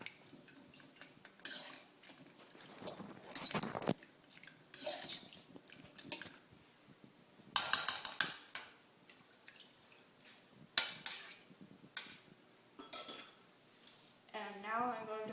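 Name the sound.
mixing wet ingredients in a bowl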